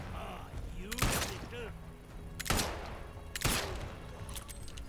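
Gunfire in a shootout in the video game Atomfall: three loud, sharp bursts of shots about a second apart, with a voice and game sounds in between.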